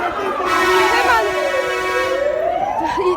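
A fire engine siren wails as the truck arrives at earthquake rubble in Harput after a magnitude 6.8 quake, its tone sweeping up and down loudly and nearby, with voices talking over it.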